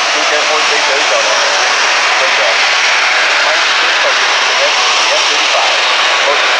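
An F-35 fighter jet passing at the 2018 RIAT air show at Fairford, a loud, steady broadband jet roar heard from a distance, with an announcer's voice over the public address faintly underneath.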